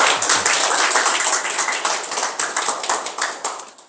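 An audience claps steadily to welcome a writer and researcher onto the stage at an author meet-and-greet event. The sustained applause holds a fairly even level, with individual claps audible, and tapers slightly near the end.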